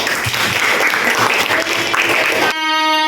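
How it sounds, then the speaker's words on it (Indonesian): Classroom applause fills the room with dense, steady clapping for about two and a half seconds, then cuts to a different tonal sound at the end. "kita berikan tepuk tangan"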